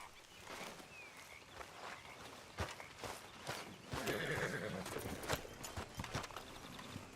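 Horse hooves clip-clop steadily in Red Dead Redemption 2, with a whinny and soft footfalls among scattered ambient knocks and faint bird calls, fairly quiet and close.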